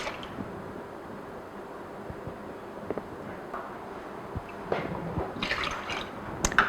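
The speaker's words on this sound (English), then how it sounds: "So I'm just going to strain the whey, or separate it from the curds." Whey drips and trickles quietly as it is strained away from cheese curds while making feta, a faint, steady run of liquid with a few brighter splashes near the end.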